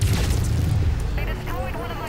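A Gauss rifle fires in the MechWarrior 5: Mercenaries mech combat game, a loud, sustained low boom that rumbles throughout with no talk over it.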